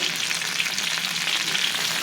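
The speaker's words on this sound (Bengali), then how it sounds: "আমি প্রথমে পটল আলু আর পনিরটা ভেজে নিলাম পটলটা ভাজা হয়ে গেছে" Pointed gourd, potato and paneer fry in hot oil, giving a dense, steady sizzle with crackling bubbles close by and no voices.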